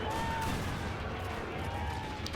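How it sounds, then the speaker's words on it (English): Camel gunners and other companies open fire in a video game battle of the Mahdist Rebellion, a dense, continuous roar of massed gunfire with no distinct single shots. "Okay, all companies, open fire."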